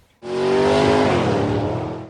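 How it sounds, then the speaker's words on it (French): A Ford Focus driving at over 60 km/h during an obstacle-avoidance test, its engine and tire roar surging in suddenly and loud, then holding steady with a slight fall in pitch as the car passes. "il y a une Ford Focus qui est lancée sur une maquette à plus de 60 km/h"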